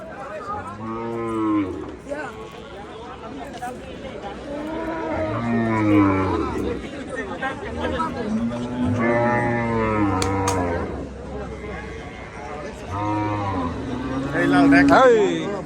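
Cattle moo repeatedly, several long, loud lowing calls close by, at a village cattle market in Hazratpur, while people chatter in the background.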